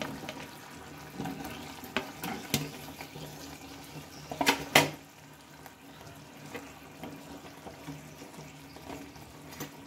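Carrot and flour snacks frying in hot oil, a steady low sizzle with some stirring and scraping noises and a couple of louder bursts near the middle.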